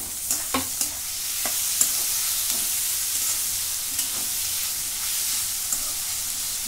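Tomatoes and green chillies sauté in hot oil for a bitter gourd curry, giving a steady close sizzle broken by a few light stirring taps, with no talk.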